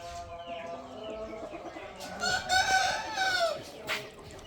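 A rooster on a farm crows loudly once in a long drawn-out call, with soft clucking from other fowl before and around it and no talk.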